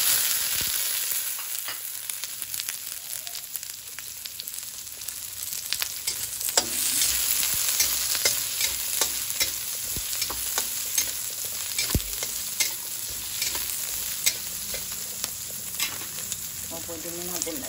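Sliced onions sizzling in hot oil in a pan for Filipino pork adobo, a continuous close hiss with scattered clicks and scrapes from stirring, without talk.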